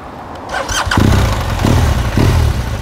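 A BMW R1200 motorcycle engine cranks and fires up close by, catching after a brief starter whir and settling into a loud, steady, pulsing idle with a few rhythmic throbs.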